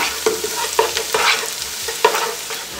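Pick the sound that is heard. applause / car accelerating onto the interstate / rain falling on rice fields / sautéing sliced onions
sautéing sliced onions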